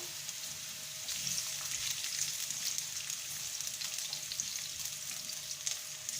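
Onion fries in a pan with a soft, even sizzle and light crackle, fairly faint and steady throughout, with no talking.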